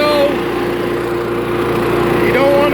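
A chipper shredder's small engine runs steadily and loudly throughout, with a constant droning hum and a faint whine, and no talk over it.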